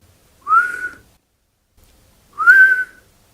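Two thin, airy whistles rise and hold for about half a second each, separated by a pause, as breath squeaks through a broken tooth.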